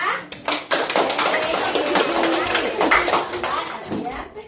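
A group of schoolchildren at a primary school clap their hands at a class award moment, a burst of dense, loud applause close by that runs steadily for several seconds, with children's voices and a teacher talking over it.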